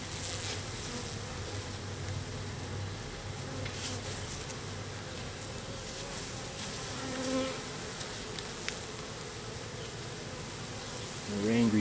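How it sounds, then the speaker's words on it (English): An angry honey bee buzzes near a hive while burrowing in, amid a constant close drone of many bees that swells near the end. "Her angry bee, she's burrowing in"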